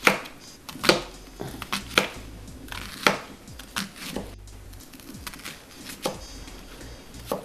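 A knife finely chopping a small-to-medium onion on a cutting board for pizza sauce, with irregular sharp knocks of the blade against the board, some in quick bursts, close and distinct with no talking.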